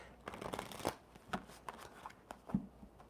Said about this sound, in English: Let's get these buggers shuffled up.